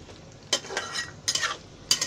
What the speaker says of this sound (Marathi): मग अशी थोडी भाजून घेते, गॅस जरा फास्ट करते